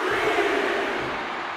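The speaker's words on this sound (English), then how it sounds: "this crowd is on their feet in full appreciation" Arena crowd cheering in the wrestling video game WWE 2K24 at WrestleMania 40: a dense, steady roar of many voices, loud and continuous, without clear speech.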